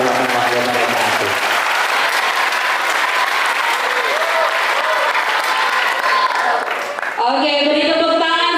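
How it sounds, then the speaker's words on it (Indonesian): Seminar audience at SMK Widya Dharma Turen applauds Dr. Gamal Muntaib, a loud, dense, sustained wash of clapping that runs steadily throughout, with brief music or voices near the start and a bright tonal sound entering near the end. "beri tepuk tangan sekali lagi yang paling meriah buat Dr. Gamal Muntaib"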